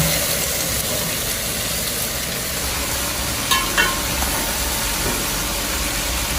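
Brinjal frying in a pan with onion and tomato for a curry, giving a steady, dense sizzle throughout with a couple of faint clinks near the middle.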